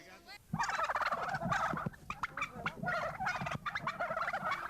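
Turkey on a farm gobbling loudly up close, several rapid warbling gobble bursts in quick succession with brief pauses between them.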